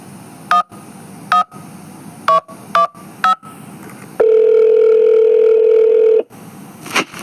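Phone dialing and ringing in the video game Duskwood: a run of separate DTMF keypad beeps, then a long steady ring tone lasting about two seconds, followed by a brief burst of sound.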